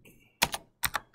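Computer keyboard keys pressed while working in Excel, two quick pairs of crisp close clicks with a short pause between them.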